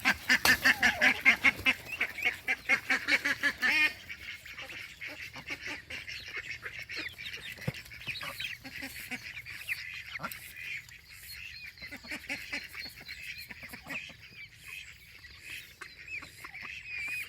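A crowded flock of backyard ducks and geese quacks and honks nearby in hot weather, with a dense burst of loud calls at first that thins into scattered quacks and chatter over steady background noise.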